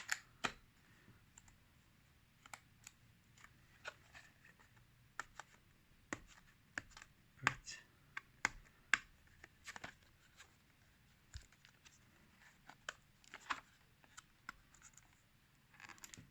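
A Samsung Hybrid In-Ear Perfect-Fit EG920 earphone box is handled and opened, giving faint, scattered clicks, taps and light scratches of cardboard and plastic at an irregular pace, close by and with no speech.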